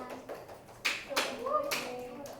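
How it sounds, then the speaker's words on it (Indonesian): A classroom group claps after a student presentation: a few scattered, fairly quiet hand claps with children and a teacher speaking around them. "Tepuk tangan."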